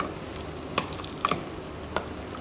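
A pan of curry (salan) with tomatoes, salt and turmeric frying quietly, a soft low sizzle broken by a few sharp clicks and taps, likely from stirring.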